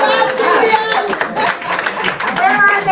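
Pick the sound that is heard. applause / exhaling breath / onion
applause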